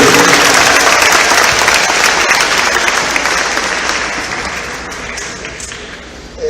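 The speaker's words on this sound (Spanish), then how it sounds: "Vamos a darle un fuerte aplauso, por favor, y que sean bienvenidos." A university audience gives a loud, dense round of applause welcoming a visiting bishop before his lecture, sustained crowd clapping that gradually tapers off.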